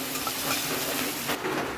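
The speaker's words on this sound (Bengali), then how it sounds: "পেঁয়াজটা ভালো করে ভেজে নিব।" Chopped onion and chilli fry in oil alongside dried red chilli and nigella seeds, a close, steady hiss-like sizzle with a faint scrape near the end.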